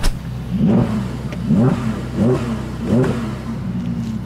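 A Ferrari F8 Tributo engine revs repeatedly on the Autobahn, climbing in pitch with each burst of acceleration, loud and nearby with brief dips between pulls.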